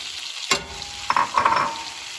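Butter and flour sizzle in a frying pan, with a sharp clatter and scraping stirs over the steady frying hiss.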